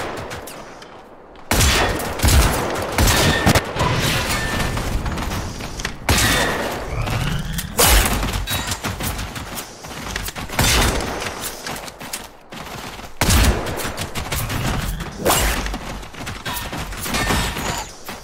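Rapid bursts of gunfire with heavy thuds and booms fill the Generation Zero game, sustained volleys broken by brief pauses, loud and close throughout.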